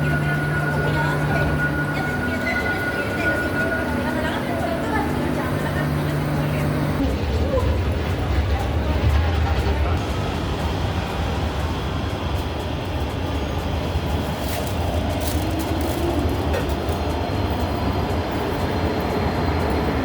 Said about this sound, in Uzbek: Ispaniyani metrosida.